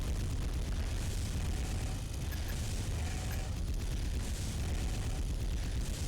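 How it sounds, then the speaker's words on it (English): Howitzer shells explode during battle in the mecha game Armored Core 3, a dense rumbling barrage of booms and bursts that stays loud and continuous. "Yeah, those howitzers."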